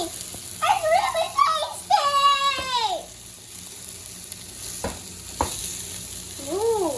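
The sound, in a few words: stirring omelette egg mixture with cheddar cheese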